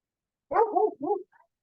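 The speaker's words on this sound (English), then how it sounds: "the dog with the neighbor is barking" A dog barks twice in quick succession, muffled and somewhat distant, followed by a faint short yip.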